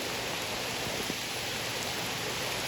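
Heavy downpour on a creek bank during a flathead catfish fishing trip: a dense, steady hiss of rain falling without a break, close and even throughout.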